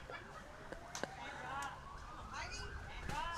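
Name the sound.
emergency vehicle sirens in the background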